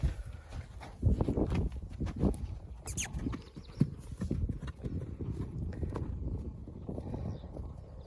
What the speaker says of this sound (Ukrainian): Ось такі володимирські коні.